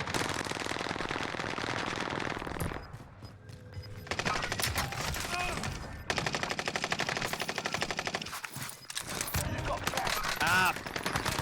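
Submachine gun fire in a battle royale video game, fast automatic bursts in repeated volleys with short gaps, loud and close, with other game sounds between them.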